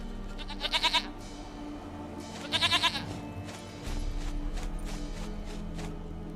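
Two separate nasal bleats from a goat in The Witcher 3 ring out close together, each short and trembling, followed by soft thuds and a low rumbling game backdrop.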